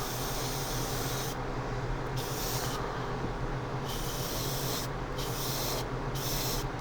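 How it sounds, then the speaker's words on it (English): Airbrush spray painting of a Gundam OZ-06MS Leo 1/144 model kit part with enamel paint: a steady broadband hiss that cuts in and out in several bursts over a constant low hum. "just spray it on"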